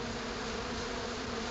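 Bees buzz around flowers in a low, continuous hum with a steady drone tone, faint and even with no gaps, with no voices present.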